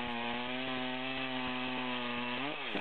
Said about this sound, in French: on vient d'amorcer le trait de scie